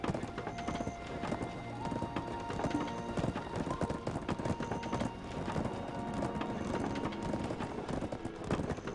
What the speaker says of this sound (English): Horses don't like stairs, apparently.